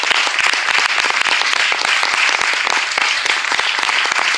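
A concert crowd in Lille applauds a musician, giving loud, continuous clapping with sharp individual claps throughout.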